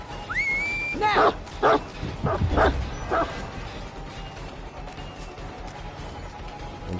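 Hound barking in Dead by Daylight, the Houndmaster's dog giving several sharp yips and bow-wow barks in quick succession, with a whine at the start and a steady game ambience beneath.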